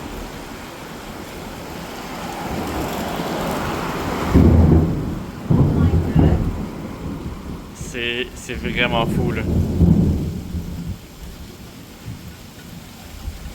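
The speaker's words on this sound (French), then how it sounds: "Il a commencé à pleuvoir." Heavy rain pours steadily by the sea with rumbling thunder swelling midway, loud low surges under a brief spoken remark and other voices.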